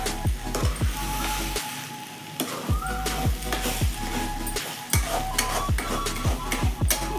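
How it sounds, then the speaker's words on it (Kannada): Egg bhurji with drumstick leaves frying in a pan, a continuous sizzle under a quick, rhythmic series of spatula scrapes as it is stirred, close and constant. "ಕೈ ಬಿಡ್ದೇನೆ ತಿರುಗಿಸ್ತಷ್ಟು ಬೇಗ ಚೆನ್ನಾಗಿ ಫ್ರೈ ಆಗುತ್ತೆ"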